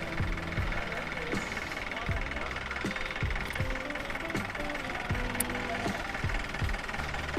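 A safari jeep's engine rumbles on a bend along a Sri Lankan camping and hiking route, a steady low throb with a regular knocking pulse running beneath someone talking throughout.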